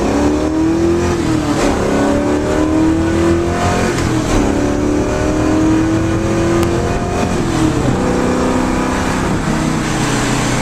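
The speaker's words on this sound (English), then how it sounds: "Alright, so we're just going to take this for a spin coming out of first gear." A 1969 Camaro Z28 Rally Sport accelerates hard out of first gear, its engine roaring loud and close with rising revs and brief shifts in pitch, running continuously with no talk over it.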